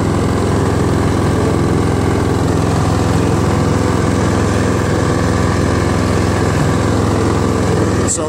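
Toro Wheel Horse 1238XL lawn tractor with a Briggs & Stratton flathead engine running in fifth gear, a loud, steady, close droning engine hum with a constant low throb throughout, no talking.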